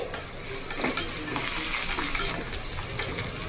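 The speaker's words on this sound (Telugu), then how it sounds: "వెల్లుల్లి కొంచెం వేగిన తర్వాత నాలుగైదు ఎండుమిరపకాయలు ఇలా పిచ్చేసి వేసి ఇవి కూడా వేగించాలి" Garlic and dried red chilies sizzle and crackle steadily in oil in a pan, with occasional scraping and clinks of a spoon stirring.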